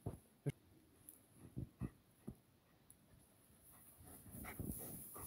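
A German shepherd moves through knee-deep snow, giving a few faint, close whimpers and short pants in separate bursts, with soft rustling that grows toward the end.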